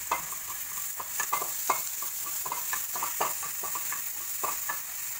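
Onion frying in a hot pan where garlic is already browning, giving a steady, moderate sizzle with frequent stirring clicks and scrapes and no talking.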